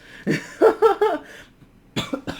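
A short burst of several hacking coughs close to the mic, followed after a brief pause by a couple more rough coughs.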